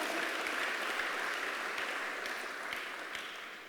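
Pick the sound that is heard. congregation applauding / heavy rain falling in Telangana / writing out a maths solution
congregation applauding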